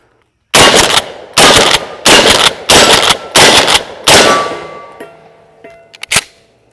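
Six loud, close blasts from a Mossberg 835 Ulti-Mag pump shotgun go off at an even pace about a second apart, followed by metallic clinks and a rattle as the firing stops.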